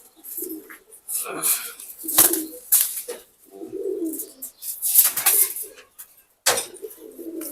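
Pigeons coo in low, murmuring bursts, with occasional rustles and brief fluttering sounds between the calls.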